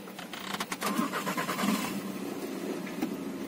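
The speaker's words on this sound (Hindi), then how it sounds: "तो दोस्तों हमने अभी गाड़ी स्टार्ट कर ली है" Skoda Laura 2015 car with a starting problem, a few quick cranking clicks followed by the engine catching and settling into a low steady idle, heard up close.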